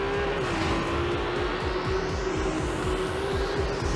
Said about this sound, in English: on the exhaust system to create this magnificent sound